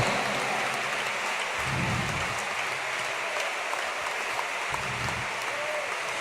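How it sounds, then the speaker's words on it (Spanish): A church congregation applauds in a steady, moderately loud round of clapping, with low murmurs and brief voice sounds rising under it twice. "¿Cuántos le aplauden fuertemente al Señor con todo el corazón"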